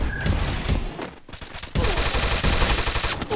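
Rapid automatic gunfire rattles in a shooting video game, loud bursts of fast shots with a brief lull before a second dense volley.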